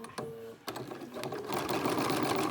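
A sewing machine stitches a Christmas wreath project, a short start-stop whir giving way to a steady, close, fast mechanical running with a continuous rattling texture.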